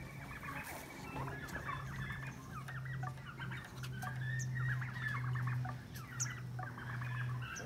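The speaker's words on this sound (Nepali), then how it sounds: "त्यो ठुलो टर्की समाउनु न" Turkeys and other fowl calling on a fish farm that also keeps ducks and pigs, with repeated gobbling and clucking bursts over a steady low hum throughout.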